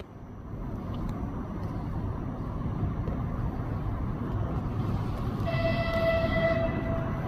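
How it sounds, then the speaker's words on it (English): An express train rumbles past at a steady roar, with a brief horn-like tone sounding near the end. "This is the express train, which means it cannot get stuck"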